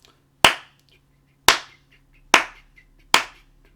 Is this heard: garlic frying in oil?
no